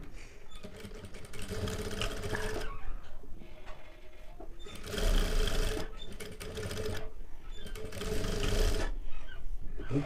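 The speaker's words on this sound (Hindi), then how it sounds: "तो इसे भी हम इस तरह से हमें मिलाते हुए इसकी स्टिचिंग हमें कर लेनी है फ्रेंड्स।" A sewing machine stitches a blouse in long, steady whirring runs, broken by brief pauses between the seams. The sound is close and prominent, with no talking.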